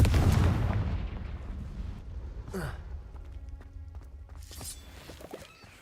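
A Confringo fire spell explodes in Hogwarts Legacy with a loud, rumbling, low-heavy blast that decays over several seconds, followed by a short whooshing sweep and later crackling bursts.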